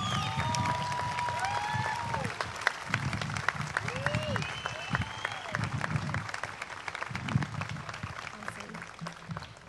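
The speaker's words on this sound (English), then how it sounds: "Audience, please join me in applauding all of these candidates for their academic accomplishments" A large audience claps steadily at a university spring commencement, a continuous full round of applause with some cheering and talking voices mixed in beneath it.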